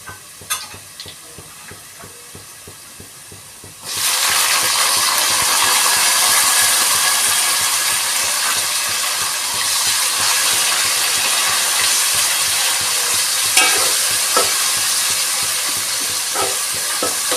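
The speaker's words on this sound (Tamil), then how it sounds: "இப்போ கட் பண்ணி வச்சுருந்த தக்காளி இருந்துச்சு இல்லைங்களா, அதையும் இதில் மிக்ஸ் பண்ணிக்கணும்" Chopped tomatoes stirred into hot oil in a frying pan for a South Indian fish curry, a quiet start giving way after a few seconds to a steady, loud sizzle with scraping stirs throughout.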